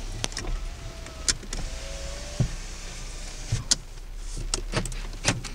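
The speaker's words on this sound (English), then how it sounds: "Power windows." Power windows on a 2008 Chevrolet Impala LS run up and down: a whirring electric motor hum rises in pitch twice, framed by sharp clicks and thumps as the glass stops, heard close inside the car.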